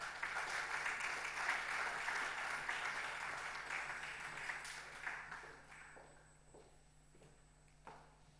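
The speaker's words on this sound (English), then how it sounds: "Shall we welcome, with a round of applause, Her Excellency Rosemary Mbabazi" At the launch of the Africa Prosperity Dialogues 2025, an audience applauds to welcome the High Commissioner of Rwanda to Ghana; the steady clapping fades out over several seconds, leaving a few scattered claps and footsteps in a large room.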